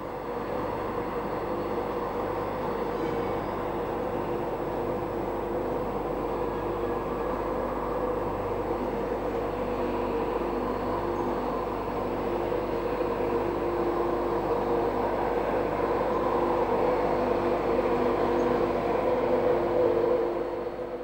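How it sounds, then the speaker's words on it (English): A Class 317 electric multiple unit comes out of Gasworks Tunnel and rolls into a suburban station, a steady, sustained rail rumble and motor hum that swells slightly toward the end, with no voices. "A Class 317 unit emerges from Gasworks Tunnel and enters the suburban station"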